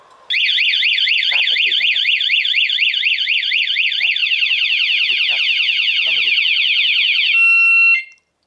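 A Honda Scoopy-i 2012 scooter's anti-theft alarm wails loudly in fast warbling sweeps, holding steady for several seconds before switching to a flat tone and cutting off, with faint clicks underneath.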